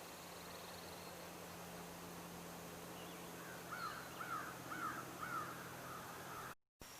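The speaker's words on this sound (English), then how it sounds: "there's lots of crows caterwauling out there" Several crows caw outdoors during a morning hike, a short run of harsh calls at a moderate distance over a steady hiss of wind or background noise. Nobody talks.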